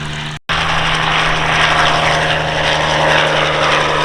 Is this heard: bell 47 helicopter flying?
yes